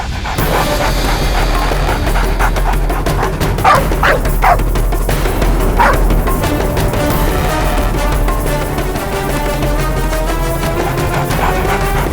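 Dog barks and yips ring out repeatedly over a dense, loud background of music and noise, the barking bursts scattered through the scene of a courtroom thriller drama.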